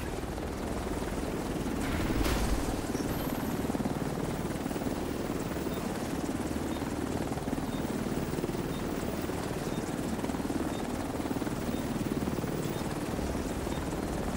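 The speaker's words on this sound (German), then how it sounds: "Helikopter ist fast in der Bergungszone." Helicopter rotor drone in The Division 2 video game as the aircraft arrives at an extraction zone, a steady, continuous thrum held at even loudness throughout, with no talk over it.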